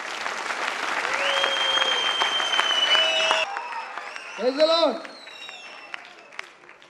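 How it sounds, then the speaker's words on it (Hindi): Audience at a church blessing meeting in Thane applauding loudly in welcome, a sustained dense wash of clapping that tapers off while a voice speaks and a tone rings over it. "हम जोरदार ताली बजा के उनका स्वागत करेंगे।"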